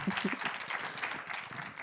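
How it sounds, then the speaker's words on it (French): Applause from an audience at an evening storytelling show as a guest is welcomed to the stage, a brief burst of soft, fairly distant clapping with faint voices mixed in. "Amanda, on peut l'applaudir."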